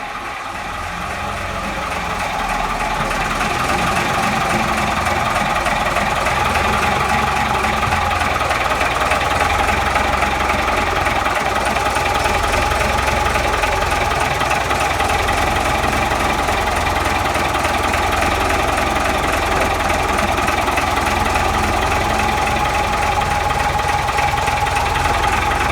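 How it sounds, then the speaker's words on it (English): Gardner 6L XB marine diesel, 150 horsepower, idling in a ketch's engine room, a loud steady low rumble with rhythmic knocking that builds over the first seconds and then holds constant, no talk. "here I am sitting on this wonderful 6L XB Gardner, which is 150 horsepower"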